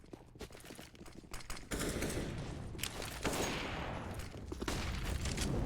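Gunfire in a Counter-Strike match: a few sharp shots early, then a dense continuous barrage of firing and explosions fills the rest, loud and close.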